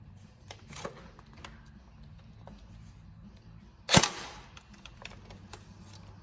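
An upgraded Tokyo Marui SCAR H NGRS airsoft electric gun lets off one sharp, close snap of a shot amid quiet surroundings with faint scattered clicks before and after.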